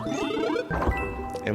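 Tinkly, watery underwater-level music from New Super Mario Bros. Wii plays as a short chiming phrase with a soft splash-like change partway through.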